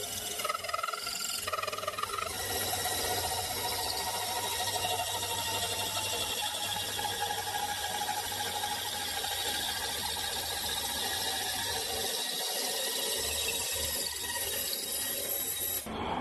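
A homemade milling machine running steadily with a continuous grinding, rasping mechanical drone and faint ratcheting texture, close and loud, with no speech.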